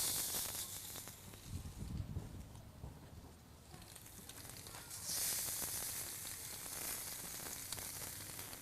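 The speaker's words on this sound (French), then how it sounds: "Donc, notre poisson est mis à cuire." Halibut sears in a very hot pan on a barbecue, a continuous hissing sizzle with a louder surge midway, close by and with no talking.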